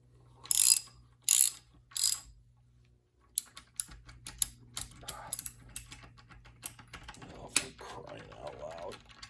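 A wrench ratchets crankshaft bolts tight on a Case 188D tractor engine: three quick bursts of close clicking, then quieter scattered mechanical clicks and clatter over a low steady hum.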